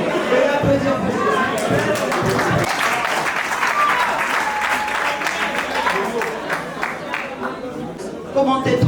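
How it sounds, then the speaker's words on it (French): Guests at an official civil wedding ceremony in Congo-Brazzaville break into sustained, dense clapping from a nearby crowd, with some voices mixed into the ovation. "Si oui, veuillez applaudir pour vous."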